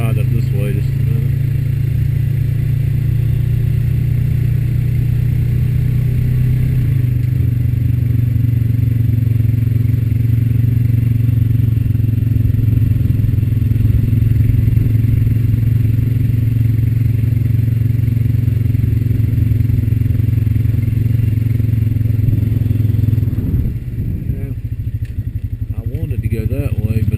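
A Honda Rancher 420 ATV rides along muddy farm trails with a loud, steady, close engine drone and some clatter. Its tone shifts near the end, and a rider talks over the engine.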